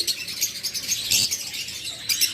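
Lutino Fischer's lovebirds give shrill, high chirps and squeaks in quick, irregular bursts, close and fairly clear over a soft background hum, with no talk.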